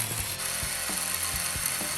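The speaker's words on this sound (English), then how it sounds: "That noise you're hearing is actually the differential, or the drive shaft making a little bit of noise." Differential or drive shaft of a Traxxas Bigfoot RC monster truck: a continuous mechanical whir with repeating ratchet-like clicks and gear chatter at a steady rhythm, close and fairly loud, no talking.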